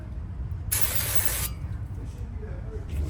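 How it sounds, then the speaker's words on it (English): A short burst of brake parts cleaner sprayed onto a rusty front rotor hub of a Volkswagen Passat, a bright hiss lasting under a second over a low background rumble. "Brake parts cleaner and spray around a little bit."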